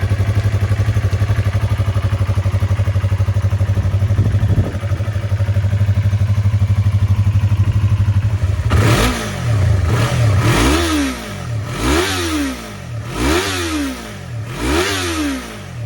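A Yamaha R3 motorcycle idles with a steady low thrum, then its engine is revved repeatedly in rising and falling bursts, each rev sweeping up in pitch before dropping back.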